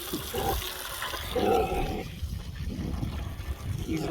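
Water poured over young growing plants with oranges nearby, a broad splashing pour that settles into a softer steady trickle, close and moderately loud.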